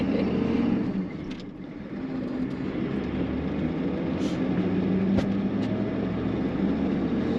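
A 1984 Ford F250 with a 6.9L diesel drones steadily while driving, heard from inside the cab as a constant low rumble with a brief dip in level and a few faint clicks and knocks.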